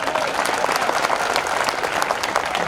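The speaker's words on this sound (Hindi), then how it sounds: "ताली बजाओ ढंग से उनके नाम पर।" An audience at a live stage performance breaks into loud, sustained applause, dense overlapping claps from a large crowd filling the whole moment with no pause.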